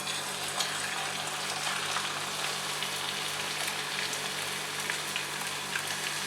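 Steady, even sizzling of a spiral-cut potato deep-frying in hot oil at home, a close, continuous crackle and bubbling hiss that holds at a constant level throughout.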